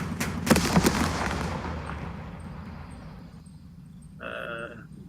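Machine gun fire in the wargame Second Front comes as a quick burst of sharp rattling shots, followed by a rumbling tail that slowly fades.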